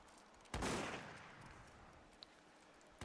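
A single musket shot cracks loudly in a Mount & Blade line battle on a fortress battlement, its sharp report trailing off in a reverberant tail over a second, with a faint distant pop later and another shot starting at the end.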